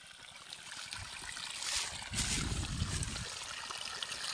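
Water gushes steadily from a solar-powered irrigation pump on a vegetable and rice farm, a continuous broadband rushing that swells louder partway through and stays close and unbroken.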